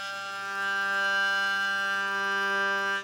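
Hurdy-gurdy string sounding on the rosined wheel without cotton, a steady held tone that is slightly rougher and lasts about three seconds, close up with no other sounds.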